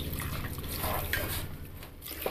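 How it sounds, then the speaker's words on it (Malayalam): Water is poured into a pot of potato, cauliflower and vegetable curry, a soft trickling, splashing flow at moderate volume with faint background hum. "3/4 ഗ്ലാസ് വെള്ളമേ ഇതിനകത്ത് ഒഴിച്ചിട്ടുള്ളൂ."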